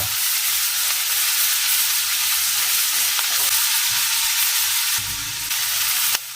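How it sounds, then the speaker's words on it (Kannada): Onions frying in oil in a pan for a drumstick-leaf and egg stir-fry, a loud, steady close-up sizzle with faint stirring, no talk. "ಈರುಳ್ಳಿ ಸ್ವಲ್ಪ ಎಣ್ಣೆ ಜೊತೆನಲ್ಲಿ ಫ್ರೈ ಆಗಬೇಕು"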